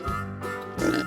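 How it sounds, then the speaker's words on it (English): A pig oinks in a short, close sequence of nasal grunts within a farm-animal sound lineup, with a louder burst near the end and no talk over it. "Pig."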